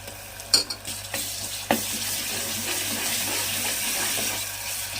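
Onions with ginger garlic paste fry in a pan for a mutton curry, a few sharp stirring clinks and scrapes at first, then a steady close sizzle settling in underneath.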